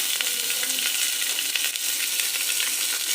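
Onions sautéing in a pan with spices for chicken kulambu: a steady, close, crackling sizzle of hot oil with faint stirring scrapes and no talk.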